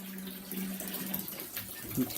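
Cold water running from a tap into a partly filled bathtub, a steady broad rush of flowing water heard close up, with a low hum underneath.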